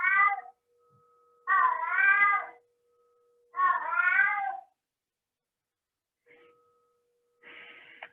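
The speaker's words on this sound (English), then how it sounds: "and the sound of my cat" A house cat meows loudly and close, four drawn-out calls spaced a couple of seconds apart, with a faint bell tone ringing softly beneath them in an otherwise quiet room.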